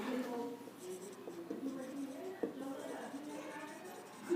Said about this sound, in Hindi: अब मैं यहां पर लिखता हूं, इसे इरेज कर देता हूं और रिमेनिंग यहां लिखता हूं